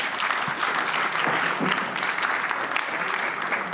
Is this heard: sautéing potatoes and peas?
no